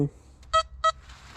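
Two short electronic beeps from a Deus metal detector in a forest, evenly spaced and fairly close, following a brief low murmur at the start.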